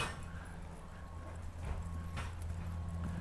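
A horse's hooves clip-clop steadily on the ground, a moderately close, rhythmic plodding over a low background rumble.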